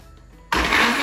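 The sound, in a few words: kitchen blender starting, mixing with water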